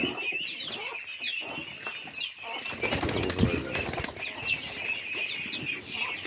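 Pigeons take off in a sudden loud burst of flapping wings near a poultry yard, while hens cluck intermittently in the background.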